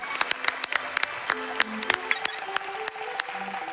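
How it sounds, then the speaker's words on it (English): Applause from a crowd at a speedrunning charity marathon, with sharp claps mixed among cheering and a voice over it, steady and moderately loud throughout. "That deserves a round of applause"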